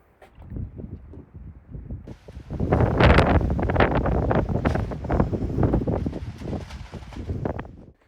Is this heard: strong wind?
yes